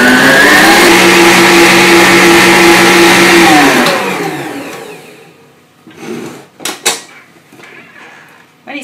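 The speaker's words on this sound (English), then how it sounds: "going to whisk the eggs and sugar together until they're really thick and creamy. And that's going to take a good 5 minutes on high speed" An electric whisk beats eggs and sugar on high speed for a chocolate log, a loud steady motor whine that winds down and stops after about four seconds, followed by a few faint clinks and knocks.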